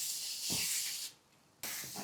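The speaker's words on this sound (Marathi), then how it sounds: "आता मी इथे बिडाचा तवा घेतलाय, यावर तेल घालूया" Oil sizzles on a hot cast-iron dosa pan, a close, quiet hiss in bursts that drops away briefly, then abruptly returns, with no voices.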